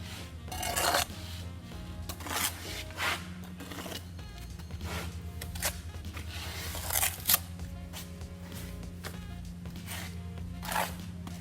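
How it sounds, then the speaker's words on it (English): A steel trowel scrapes excess mortar off a concrete block while an 8-inch block lead is laid, giving a series of short, sharp scraping strokes and clinks, close and irregular, over a low steady background hum. "I'm going to scrape this away, and we can continue laying our second course of block."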